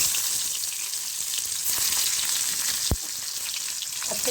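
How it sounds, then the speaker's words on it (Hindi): Finely chopped onion sizzles in hot oil, a continuous bright crackling hiss with a sharp clack of a utensil partway through, close and alone without talk. "ऑयल ऑलरेडी गर्म हो चुका है। चलिए, हम इसमें डालेंगे बारीक कटा हुआ प्याज"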